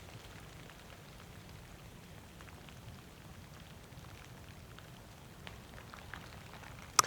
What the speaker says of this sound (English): you can hear the rain entering the woodland with a million tiny footsteps